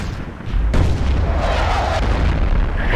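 Tank guns in a tank video game firing, heavy booming blasts that roll into a sustained loud rumble of battle noise, with no talking.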